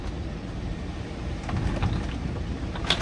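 Heavy rain and hail drum steadily on a camper roof during a thunderstorm, a dense continuous patter with a few sharper hits toward the end.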